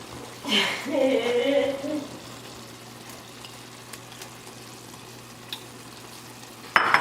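Chicken fries in a pan while jollof is being cooked, giving a soft sizzle beneath a steady low hum. A brief louder burst of stirring comes near the start, and a voice can be heard faintly.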